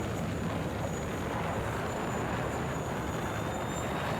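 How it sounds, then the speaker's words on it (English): A jet aircraft flies in Battlefield 6 with a steady, broad engine roar and whine that holds constant throughout. Sustained and fairly loud, with no voices over it. "Hostile jet spotted."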